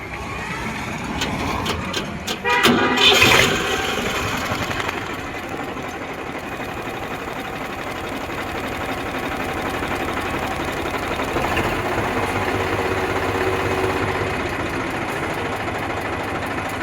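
An Eicher 368 tractor engine runs steadily nearby, a rough rhythmic chugging drone with a brief louder rattle early on, continuing evenly to the end.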